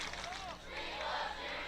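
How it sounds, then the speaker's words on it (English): A football crowd at a Father Ryan at Ravenwood game roars in steady, broad cheering as an injured player is helped off the field; the sustained wash of voices stays loud and even throughout. "Hear the crowd cheering for Junior Carlson as he's helped off the field"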